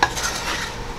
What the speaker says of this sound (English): And then we're going to mix it all together.